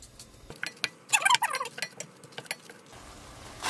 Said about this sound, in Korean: 미역이 잘 볶이고 있네.